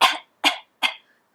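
A person mimics a dog's harsh, honking cough, three rough hacking bursts in quick succession, close up and fairly loud, with silence between them.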